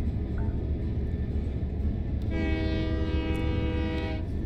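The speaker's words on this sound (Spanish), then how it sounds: "tenemos que usar la bocina, así que usamos la bocina, chicos, por ese paso a nivel que tenemos por allí" A train in Train Life Simulator rumbles along toward a level crossing and sounds its horn once, a loud, steady multi-tone blast of about two seconds over the constant rolling noise.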